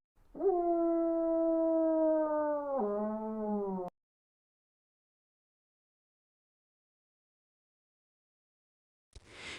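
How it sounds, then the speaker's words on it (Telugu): A single loud, drawn-out animal howl lasting several seconds, wavering and dropping in pitch before cutting off abruptly, followed by silence and a short burst of noise at the end; meant as a fox crying out. "నక్క వెంటనే గట్టిగా అరిచింది"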